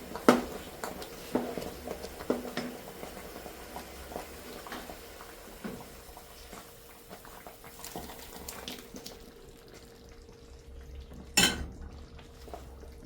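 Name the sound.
stirring sauce in a cooking pot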